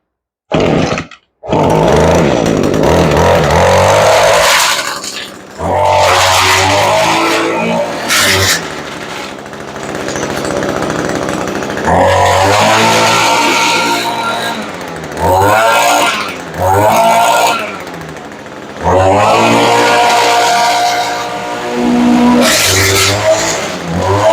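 An Echo GT225 two-stroke string trimmer engine, revived after sitting a year, starts with a pull on full choke, then runs loud and close, revving up and down repeatedly with brief idles between bursts.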